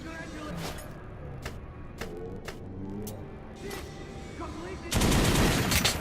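Gunfire at a shooting range in the video game Metro Last Light Redux: several sharp single shots spaced across the stretch, then a loud sustained burst near the end, over a steady game background.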